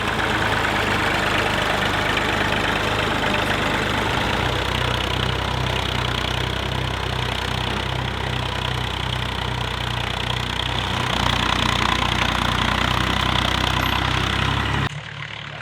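A tractor engine works steadily through a ploughing pass on a wet field, a constant droning chug with a low throbbing pulse, close and loud, running nearly unbroken before cutting off at the end.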